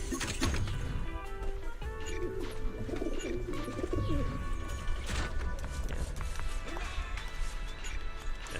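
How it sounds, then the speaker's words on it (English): Pigeons coo repeatedly in a video game, soft throaty calls set among game ambience and clattering effects, while a person talks over them. "there's pigeons right here."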